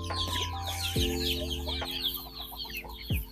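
Chickens cluck and chatter on a provincial poultry farm. Several birds call at once, with repeated short clucks and a few louder squawks against a steady outdoor background.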